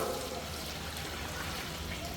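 Water poured into sizzling masala in a large pot of beef leg curry makes a steady, dense rushing hiss, even and unbroken throughout, close and moderately loud.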